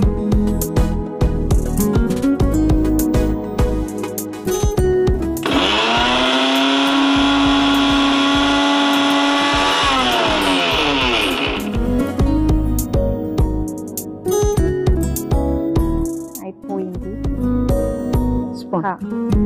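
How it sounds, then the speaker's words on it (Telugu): A mixie blender grinding gongura chutney roars steadily for about six seconds in the middle, loud and close, between stretches of kitchen talk and clatter. "కొంచెం చల్లారిన తర్వాత మిక్సీ పట్టుకోవాలి."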